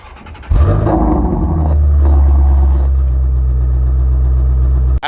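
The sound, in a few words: Ford Mustang Shelby GT350 5.2 liter V8 engine startup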